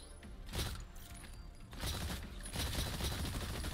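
Gunfire aimed at targets in the video game Exoprimal comes in fairly quiet bursts of rapid shots, with a brief pause and then a louder, denser volley.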